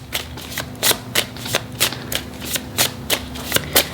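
Tarot cards being shuffled by hand: a steady run of crisp riffling bursts, about ten in four seconds, close and clear with no talking.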